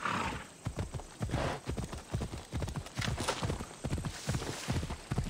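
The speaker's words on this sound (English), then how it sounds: "we're gonna call our horse" A horse gallops in the video game Assassin's Creed Odyssey, its hooves drumming out a fast, steady clip-clop rhythm at close range, with a whinny near the start.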